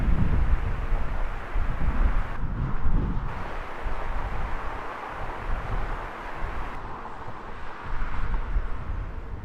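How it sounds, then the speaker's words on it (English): Strong wind buffets a microphone outdoors at Heathrow Airport, a constant loud rushing roar with gusty surges and no voices. "the wind is bonkers"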